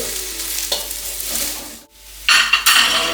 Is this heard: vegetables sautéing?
yes